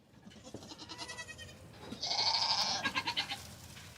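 A newborn chamois-coloured goat kid bleats in a barn birthing pen, a run of short wavering cries followed by one louder, sustained bleat, close and clear over quiet background.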